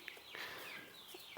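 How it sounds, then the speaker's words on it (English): Barred Rock chick from a batch of meat birds on a woodland homestead gives a few soft, faint clucks and peeps over a brief, quiet moment. "This is the first one we got, which was the barred rock chick."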